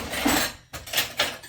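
A saucer is set down in a home kitchen while steak and butter are prepared, giving a few close, crisp clinks of crockery in separate taps with no voices.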